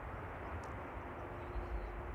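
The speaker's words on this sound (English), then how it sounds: "I'm hearing a propeller again." A propeller airplane passes overhead near an airport, giving a faint, steady low drone with no distinct peaks.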